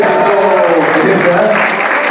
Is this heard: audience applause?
yes